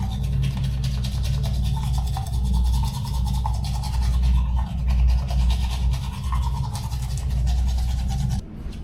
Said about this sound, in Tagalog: Pag kumakain ka, pagkas na kumain, pwede ka makapag-toothbrush.